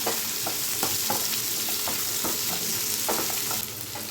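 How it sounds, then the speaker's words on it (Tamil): Onions, green chilies and curry leaves sauté with salt in a pan for potato poori masala, a continuous close sizzle broken by regular stirring scrapes, with no voices. "இப்போ இதெல்லாம் நல்லா வதக்கி விட்டுக்கலாம்."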